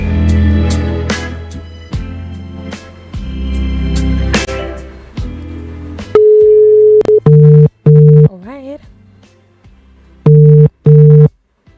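A telephone call is being placed, with repeated electronic tones in short regular bursts separated by gaps. Earlier, muffled rustling and handling noises precede the tones, with no speech.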